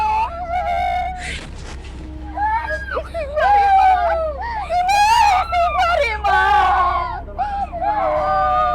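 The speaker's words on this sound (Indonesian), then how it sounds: "Enggak tahu dia setiap maghrib selalu teriak-teriak seperti ini." A young girl screams and wails in loud, drawn-out, rising and falling cries at maghrib prayer time, with several people talking around her and a steady low hum underneath.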